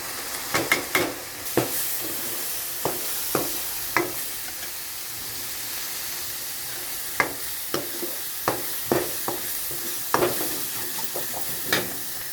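Tomatoes with spices fry and get stirred in a pan, with a steady sizzle broken by repeated sharp scraping strokes of a spoon across the pan. The strokes come in irregular bursts, close and clear, with no talking.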